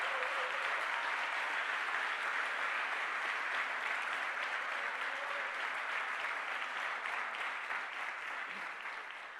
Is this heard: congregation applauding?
yes